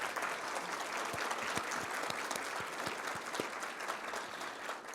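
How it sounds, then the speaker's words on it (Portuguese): An audience at a ceremony gives a sustained round of applause in memory of a late city councillor, with dense, even clapping filling the room for the whole stretch at a moderate distance, no voices over it. "aplausos para esse vereador que não está mais entre nós"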